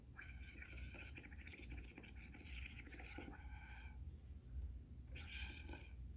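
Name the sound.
blowing bubbles through a straw into soapy liquid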